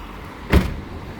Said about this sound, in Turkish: Kapıyı kapatalım